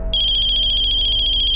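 A telephone rings with a loud, close electronic ringtone, a bright pulsing trill that starts abruptly and continues steadily, marking the ransom call in a crime drama.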